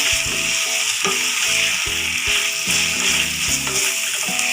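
Turmeric powder frying in oil for poori masala gives a loud, steady, close sizzle that runs throughout, with faint rhythmic tonal sounds underneath.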